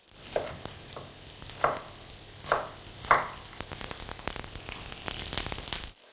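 Onions sautéing in clarified butter in a pan for a crispy pork knuckle dish, a low steady sizzle with several sharp stirring clatters spread across the stretch and no talking.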